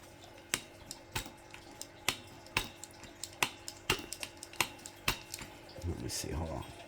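Liquid drips out of a Hotbodies Dirt Demon RC car in a steady run of crisp, evenly spaced drops close by, with a muffled rustle near the end.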